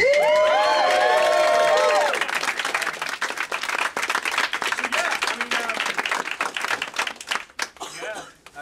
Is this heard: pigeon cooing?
no